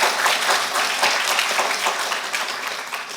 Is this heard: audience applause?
yes